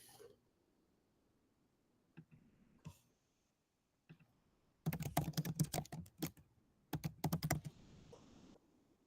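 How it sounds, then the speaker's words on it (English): Someone types codes on a computer keyboard, starting with a few isolated key taps, then bursts of quick clicking strokes in two runs, close and fairly quiet. "I'll type those in."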